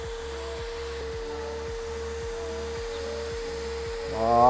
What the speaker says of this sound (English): Then we're going to start our extraction process.